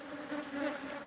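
European honeybees buzz at a hive in a close, steady hum with a slightly wavering pitch and no voices.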